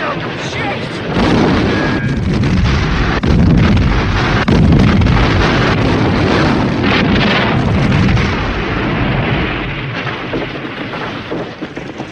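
Massive ammunition dump explosions from a 1977 World War II film, A Bridge Too Far: continuous rumbling blasts and booming detonations roll on for about twelve seconds, loud and dense, with voices shouting faintly beneath the din.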